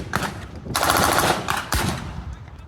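A WWII Bren light machine gun fires in loud, close bursts of rapid shots at a re-enactment, several strings of fire in quick succession.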